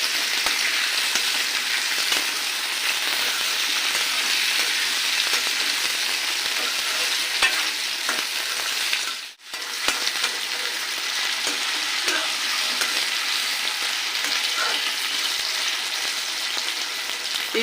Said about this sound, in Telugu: స్టవ్ హై ఫ్లేమ్లో పెట్టుకొని వేయించుకోవాలి. ఇవి కలుపుతూ వేయించుకోవాలి.